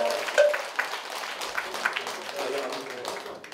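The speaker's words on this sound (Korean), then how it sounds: "큰 박수 부탁드립니다." At a Buddhist temple ceremony, an audience claps in a soft, fairly distant patter that holds steady for a few seconds, with a voice speaking over it.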